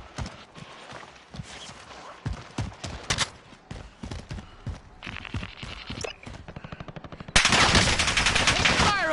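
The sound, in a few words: gunfire from a video game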